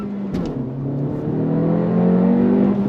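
A 2025 Honda Civic Si accelerating at full throttle, engine note rising steadily and loudly from inside the cabin, with a brief click near the start.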